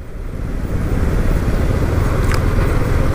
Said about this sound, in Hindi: यहाँ पे इतनी ट्रैफिक क्यों है।